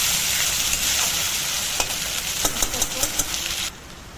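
Spice paste for chicken kosha fries in a pan, a steady sizzle broken by several sharp scrapes and taps of a spoon being stirred, cutting off abruptly near the end.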